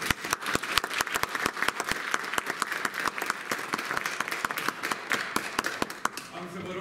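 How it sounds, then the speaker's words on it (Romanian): Applause from an audience at a Minorities Day celebration in Bacău, with many individual claps cutting through sustained crowd clapping, loud and close, tapering off near the end. "Acestea sunt, vă rog, aplauze pentru ei."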